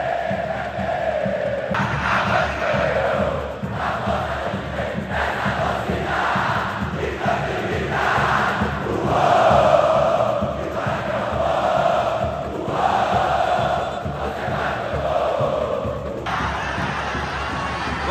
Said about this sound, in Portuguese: E o canto rubro-negro, hein?